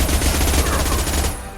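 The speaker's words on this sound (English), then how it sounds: "Taking heavy fire!" Rapid automatic gunfire in Mass Effect 2, a loud, fast stream of close shots that stops abruptly near the end.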